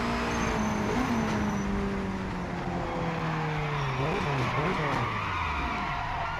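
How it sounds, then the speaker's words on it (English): A race car sliding in the Project Motor Racing game, steady engine drone with a sustained tyre squeal rising and wavering as the car slips, a continuous loud mix. "I could just about hear the tyre squeal when the car slid"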